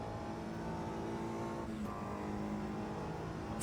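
A Mini touring car's engine drones steadily in the Automobilista 2 racing game, a sustained close-up hum with a brief dip in pitch around a gear change midway, alone without talk.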